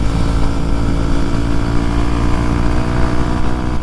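A motorcycle engine runs steadily and loud throughout, a continuous low rumble with no breaks or talk.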